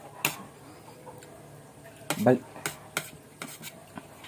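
A cooking pot being scrubbed with steel wool after a fiesta, heard as scattered scraping and clinking strokes, a few louder rasps among quieter ones at close range.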